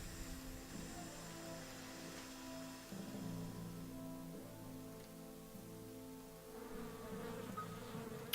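A swarm of bees buzzing in a video game, droning tones that waver and shift in pitch, continuous and fairly close, with no talking.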